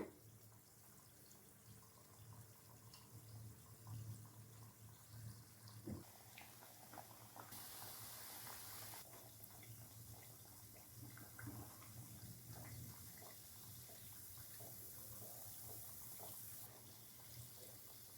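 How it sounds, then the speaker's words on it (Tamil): Wheat flour biscuit dough pieces fry in oil over a medium flame, making a continuous low bubbling sizzle that stays steady and fairly faint throughout. "எல்லா பீஸையும் எண்ணெயில் போட்டு எடுக்கலாங்க"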